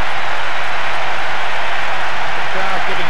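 A football stadium crowd jeers in the soccer video game PES during a Copa America match between Brazil and Chile, a dense continuous roar of massed voices filling the whole stretch.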